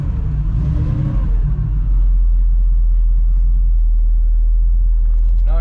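A 1968 Camaro SS tribute's V8 idles not yet warmed up, with a deep steady rumble close by after a brief rev at the start. A voice is heard over the first two seconds.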